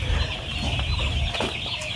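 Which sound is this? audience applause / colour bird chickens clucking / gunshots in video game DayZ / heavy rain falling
colour bird chickens clucking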